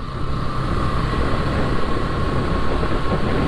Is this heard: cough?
no